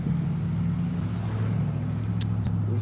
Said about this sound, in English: And these silver and black cars are pulling up right now.